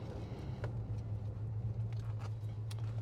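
A 1969 Pontiac GTO engine rumbles steadily with a low droning hum, heard from inside while driving, with faint rattles and no talking.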